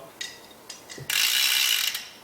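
Short clicking ratchet strokes on a bicycle chainset bolt wrench, a few quick bursts followed by a longer continuous ratcheting run, close and crisp.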